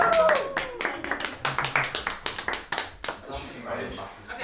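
Scattered hand clapping from a few people, close and uneven, with bursts of claps tapering off over a few seconds.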